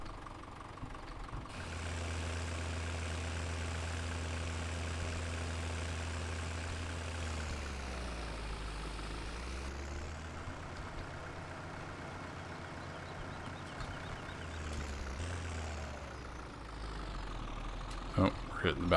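A tractor engine in the video game Farming Simulator 17 rumbles at a low, steady idle, dipping and rising as it drives over silage on the ground, with a voice talking over it.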